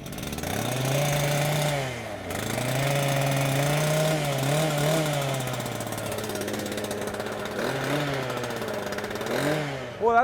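A petrol concrete cut-off saw engine catches and runs, revving up and settling with wavering pitch for several seconds, dips briefly, then revs again loudly close by.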